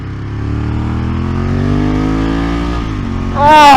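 A 29-year-old Ducati 916 motorcycle engine drones loudly and steadily while riding, pitch easing slightly before a sharp rise in revs at the end.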